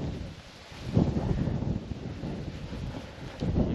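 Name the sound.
cold wind blowing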